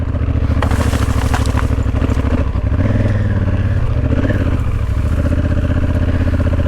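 An adventure motorcycle engine labours loudly up a steep dirt climb, a steady close rumble that rises and strains as the wheel slips, with clattering throughout.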